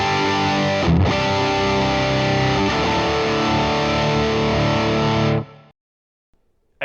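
Distorted electric guitar rhythm chords through a Quad Cortex into a Fender Deluxe Reverb amp ring out loud and sustained with one brief pause, then cut off into silence near the end.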